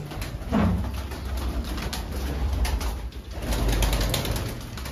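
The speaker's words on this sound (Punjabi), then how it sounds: "ਲਓ ਬਾਈ ਇਹ ਰਾਜਨ ਵਾਲੇ ਕਬੂਤਰ" Pigeons coo in low, throaty bursts close by inside a loft, several birds overlapping against a steady background hum.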